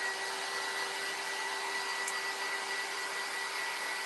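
A hair dryer blows steadily on a kitchen cutting board craft sign, a constant close whoosh with a faint motor hum, unbroken for the whole stretch and with no talking.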